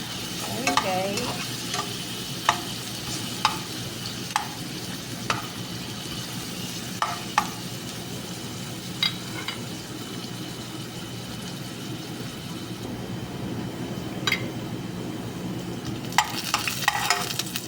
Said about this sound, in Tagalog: gigisa na natin ang ating onion at ang ating garlic